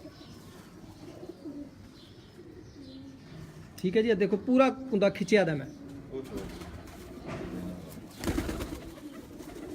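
Pigeons on the rooftop of Ustad Mazhar Niazi and Ustad Azhar Niazi give a burst of soft, throaty cooing mid-clip, close and clear, while someone talks over and around the calls.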